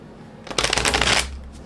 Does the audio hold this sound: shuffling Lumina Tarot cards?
yes